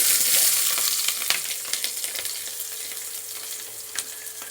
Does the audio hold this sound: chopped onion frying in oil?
yes